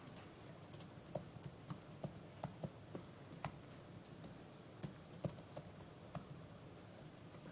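Fingers tap on a computer keyboard in quiet, irregular bursts of soft clicks, close by, with no talking.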